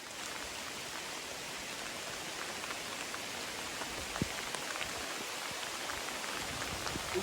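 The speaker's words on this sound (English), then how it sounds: "It's rainy." Steady rain falls outdoors in a continuous soft hiss of countless drops pattering on surfaces, fairly quiet and even throughout, with an occasional closer drip or tap and no speech.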